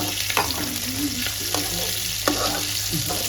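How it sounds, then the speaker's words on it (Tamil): Small onions (shallots) sautéing in hot oil for a herbal vatha kuzhambu, a steady close sizzle with a few stirring scrapes and clinks, no voices. "எண்ணெயில் எவ்வளோ அழகாக சின்ன வெங்காயம் வதங்குது பாருங்கள்."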